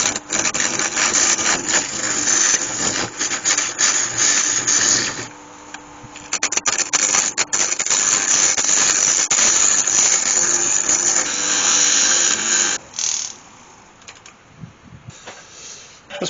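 A wood lathe turns a yew and resin urn lid, making a loud, steady whirring hum with scraping, chattering cuts that stop and start, and a quieter stretch near the end.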